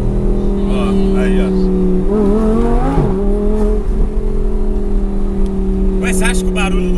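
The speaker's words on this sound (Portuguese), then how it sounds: "acha que o barulho do carro melhorou?" An Audi R8 engine drones steadily while driving, with a rising and falling rev as it shifts down automatically, and voices talking over it now and then.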